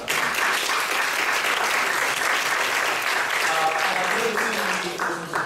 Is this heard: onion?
no